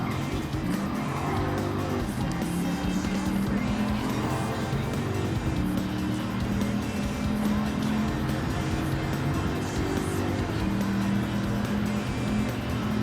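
Dodge Viper race car driven around a circuit in Gran Turismo 7, a continuous loud engine drone with rising and falling revs and gear changes throughout, with a voice talking over it.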